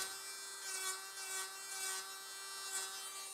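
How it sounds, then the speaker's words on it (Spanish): Nail file rasping along the sides of a sculpted stiletto fingernail, a steady close scratchy rubbing with gentle rhythmic swells, over a constant electrical hum and no voices. "No voy a limar tanto la superficie de la uña. Me voy a concentrar más en los laterales."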